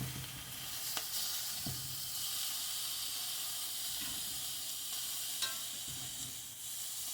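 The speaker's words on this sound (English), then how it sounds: "nothing like a cast iron frying your food." Steady sizzling of food frying in a cast iron pan, a constant hiss with occasional small pops and clinks of a utensil.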